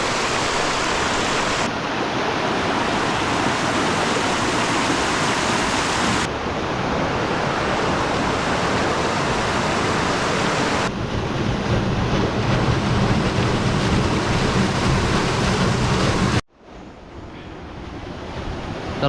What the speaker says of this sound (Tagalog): hinarangan lang nila ng mga bato dito para hindi masyadong malakas yung agos.